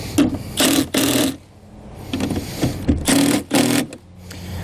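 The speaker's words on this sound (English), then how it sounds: "Then we'll take a 7/16 socket, and we're going to tighten our hardware." Socket wrench tightening hardware on a MaxxAir standard roof vent cover on a 2016 Keystone Cougar XLite RV roof, a run of close, loud ratcheting bursts in several quick spurts with short pauses between.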